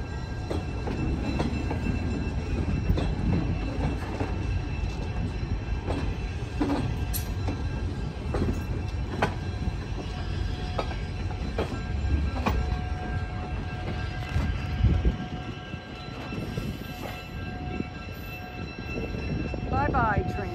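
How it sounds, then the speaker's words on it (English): Allentown & Auburn Railroad train 206 passing close by with a steady low rumble of wheels and cars that stays loud throughout, a brief squeal near the end and a person speaking faintly over it. "Bye-bye, train."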